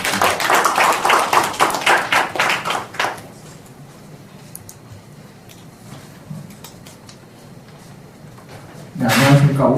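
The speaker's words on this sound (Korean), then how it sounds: "큰 박수 주시기 바랍니다" Applause from a seminar audience at a Shinhan investment briefing in Seoul, a dense burst of clapping for about three seconds that fades into quiet room noise, then a brief loud resurgence near the end.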